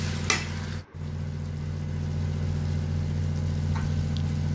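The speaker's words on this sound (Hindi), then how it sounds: "और अब हम मसाला डालेंगे कढ़ाई में, और मसाला को हमें 5 मिनट तक अच्छी तरह से भूनना है।" Spice masala sizzles and fries steadily in an oil-filled kadhai, a continuous close crackling hiss with a brief stir clatter near the start and no talking.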